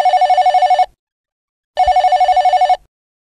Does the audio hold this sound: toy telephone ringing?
yes